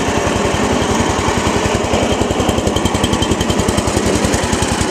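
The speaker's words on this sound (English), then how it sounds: "The engine runs fine and starts easily." A 1994 MTD riding mower's small engine runs at a steady idle, a fast, even low thumping pulse with a buzzing mechanical rattle, close and loud, with no talking.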